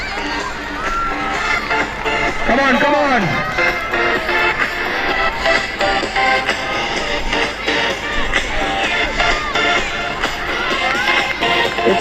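Children's crowd at a school sports day race cheering and shouting continuously, with whoops rising over the din and voices urging the runners on throughout.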